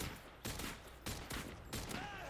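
Gunfire from an M4 rifle in a video game, heard as several short sharp bursts of rapid shots spaced about half a second apart, fairly close and loud, with a faint rising whine near the end.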